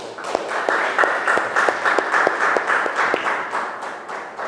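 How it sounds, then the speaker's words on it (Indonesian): Classroom of students applauding together at the end of a lesson, a steady patter of many hands clapping at moderate volume for several seconds. "Beri aplaus untuk kita semuanya."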